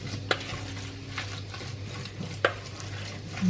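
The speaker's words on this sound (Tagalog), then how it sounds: "Tapos, i-mix siya ng maayos." A utensil stirs and mixes a batter-like mixture in a bowl, a soft continuous scraping punctuated by a couple of sharp clinks against the bowl over a low background hum.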